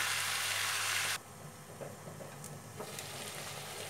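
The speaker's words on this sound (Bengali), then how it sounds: "মশলার মধ্যে ভালো করে এটাকে 5 মিনিট একটু কষাতে হবে" Mutton cooking down in spice masala sizzles softly in a pot, with a louder hiss at first that drops to a quieter frying crackle and a few light stirring clicks.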